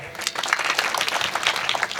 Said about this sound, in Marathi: एकदा जोरदार टाळी वाजवा